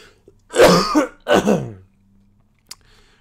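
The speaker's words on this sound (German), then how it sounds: "wenn der Husten nicht mehr da wäre" A man clears his throat and coughs in two close, rough bursts, followed by a short quiet pause and a faint click, in a quiet indoor room.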